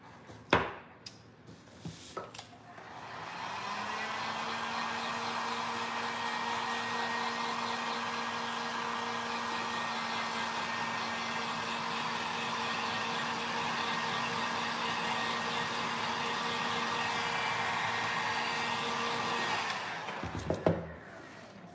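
A handheld dryer blows steadily on a freshly applied patina on bronze, a loud continuous whirring hum lasting about seventeen seconds, with a few knocks and clicks at the start and finish.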